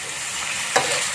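Spices frying in a pan with coconut milk added, stirred steadily: a continuous bright sizzle with one brief scrape of the spoon midway, close and alone.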